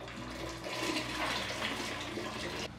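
Beans poured into a pot of boiling water, a close rushing, splashing pour that runs steadily for a couple of seconds and then stops abruptly.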